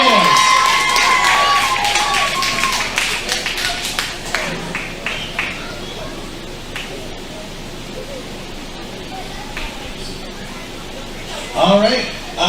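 A crowd at a CWF-Eternal wrestling show cheers and claps loudly for the first few seconds, then fades to a lower murmur with a short swell near the end, while a voice talks over it.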